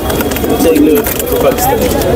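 Low, soft cooing of pigeons rises through a noisy background with people talking nearby, at the Katakhali pigeon market in Rajshahi, Bangladesh.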